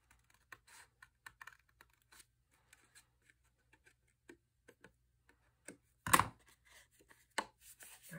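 Scissors trim paper for a handmade craft tag in a quiet room: soft, sparse snips are spaced out, with one louder, longer cut near the middle and a few more close snips toward the end.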